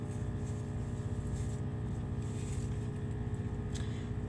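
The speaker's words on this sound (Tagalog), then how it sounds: "Pasensya na maingay ang motor." A motorcycle engine drones steadily nearby, a continuous rumbling hum with a harmonic buzz that stays even throughout, with no talking over it.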